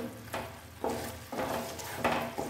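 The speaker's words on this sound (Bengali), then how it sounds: "গ্রেভিটা আমি এই বাটি ধোয়া জলটা দিয়ে গ্রেভিটা ভালো করে ফুটিয়ে নিলাম" Paneer pasanda gravy bubbling and sizzling in a pan, with bursts of stirring and spoon scrapes that come and go every half second or so, close and moderately loud, with no talking.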